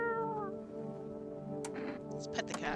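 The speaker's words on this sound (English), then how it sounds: "Oh, there's the cat." A cat in the video game No, I'm Not A Human gives a clear, drawn-out meow near the start, and a person speaks over the game's background sounds.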